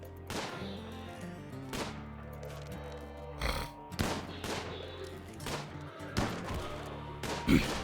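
Gunfire from a video game rings out as a series of sharp, loud shots, single cracks and short bursts spaced irregularly over several seconds, each ending in a quick ringing decay.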